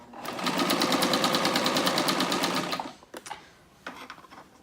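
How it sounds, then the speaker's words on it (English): Quilt fabric runs through a sewing machine in one continuous, fast, rhythmic burst of stitching lasting about three seconds, close and clear, then stops, followed by a few faint clicks and handling noises. "So we put the fabric here so that it lines up with the edge of the foot, and you just sew."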